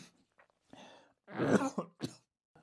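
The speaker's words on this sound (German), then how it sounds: "nach einem kleineren Hustenanfall" A short bout of coughing: a few small throat sounds, then a couple of louder, harsh coughs close to the microphone.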